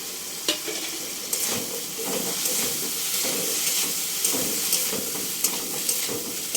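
Peeled taro dropped into a hot pan with ground spice paste and stirred, giving a steady sizzle and hiss with scraping spatula strokes and clinks at irregular intervals.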